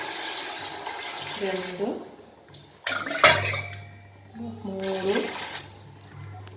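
Water poured in bursts into basmati rice, measured by the glass at one and a half glasses per glass of rice, with clinks of a glass or pot and a voice counting between pours.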